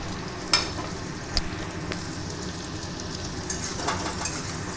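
Boiled potatoes coated in turmeric and chili powder are stir-fried in a pan, giving a steady sizzle with a few sharp scraping knocks from stirring and no talk.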